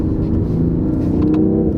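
BMW i8 hybrid accelerating in a tunnel, a dense close engine and motor drone rising steadily with a faint whir, no talking.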